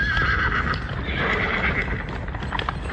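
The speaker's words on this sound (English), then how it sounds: "It's bloody horses." Several horses whinny and neigh loudly while hooves clip-clop continuously in a dense, close mix, with no talking over it.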